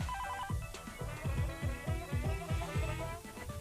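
A telephone rings in quick repeated bursts, a steady electronic trill heard across several cycles at moderate volume with no talking over it.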